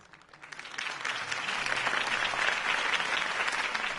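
Applause swells quickly from a crowd in a video game and holds steady, a dense wash of clapping hands with no voices on top.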